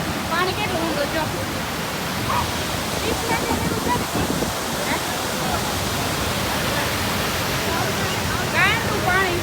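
A roaring waterfall produces a loud, continuous broadband rush of falling water, steady and close throughout, with faint voices in the background.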